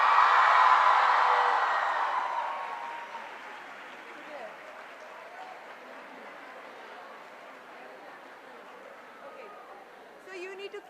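Crowd applause fills a large hall as a guest, actor Nana Patekar, walks on stage, loudest at the start and then fading to a steady, softer clatter with crowd murmur.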